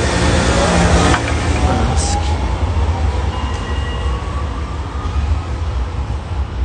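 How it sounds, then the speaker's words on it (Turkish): A tram rumbles loudly nearby at a tram station in Rotterdam, a steady heavy roar with faint wheel squeals and rail noise, no voices. "Burası tramvay istasyonu."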